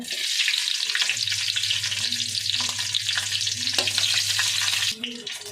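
Four green chillies frying in hot oil for Andhra-style gongura chicken, a continuous bright sizzle with stirring scrapes and a low hum beneath, close and steady.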